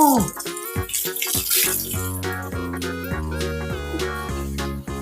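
Tap water splashes as someone washes their face, with a few sharp splashes at the start and then a continuous running, gushing wash layered over strong tonal ringing.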